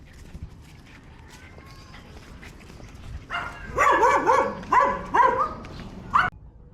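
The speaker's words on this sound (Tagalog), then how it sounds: "Tatapang ng asong to." A dog barks and whimpers outdoors in several loud, close bursts of yips and whines over about three seconds, then falls silent.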